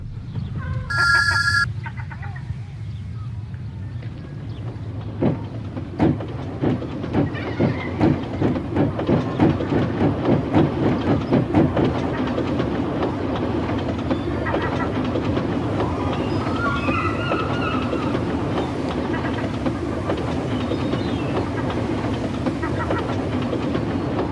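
A simulated LBSCR E2 steam tank locomotive in Train Simulator Classic backs up to couple onto stock, its rhythmic chuffing and rolling clatter growing steadily and then carrying on at a constant loud level.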